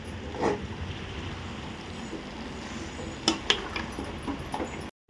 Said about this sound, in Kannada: ಡ್ರೈ ಗೋಬಿನ ಹಾಕಿ ಇದಕ್ಕೆ ಮಿಕ್ಸ್ ಮಾಡ್ತಾ ಇದ್ದೀವಿ